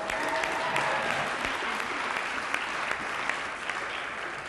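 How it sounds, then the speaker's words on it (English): A rally crowd at a public hearing on reparations claps steadily, sustained applause at moderate level with scattered louder claps and no talking over it. "give yourselves another round of applause for coming out today"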